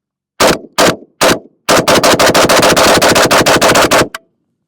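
Gunfire from a Norinco 84-S AK rifle in 5.56 at a range: three separate loud shots, then a rapid string of about seventeen sharp cracks in quick succession, ending with one final shot, with no talking.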